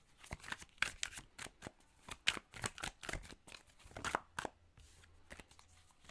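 Tarot cards being handled and drawn, a run of crisp, quick shuffling snaps and card slides in irregular bursts, close and fairly quiet with short pauses between.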